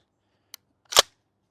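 Trigger of a Golden Eagle KSG pump shotgun resetting: a tiny faint tick followed by one sharper, louder mechanical click, close and isolated in silence.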